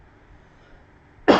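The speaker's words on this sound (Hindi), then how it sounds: "मुझे नॉर्मल खांसी आ रही है" A single short cough bursts out loudly at the very end, following near-silence, from a chemistry teacher during a class lesson.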